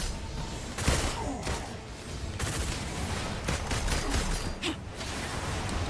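Gunfire from the video game Marvel's Avengers: dense bursts of shots and impacts fill the mix with a few sharper cracks standing out, loud and continuous throughout.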